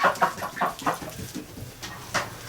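Muscovy and Pekin ducks in a barn give a string of short, soft calls in quick, uneven bursts, fairly close and with no talking over them.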